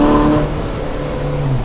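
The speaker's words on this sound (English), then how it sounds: "You would never think a V8 could sound like that." Ferrari 458 Spider V8 engine revving, a brief high-pitched exotic wail that dips and climbs again, loud and close.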